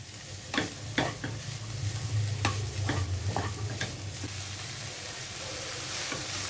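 Chicken, onion and cabbage are stir-fried in a pan for a kachori filling, with sharp spoon scrapes and knocks over a low, steady sizzle that fades toward the end.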